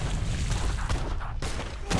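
Dense battle din from Age of Empires III on the Orinoco map, with cannon and massed musket fire crackling steadily throughout, punctuated by a couple of sharper booms, loud and continuous.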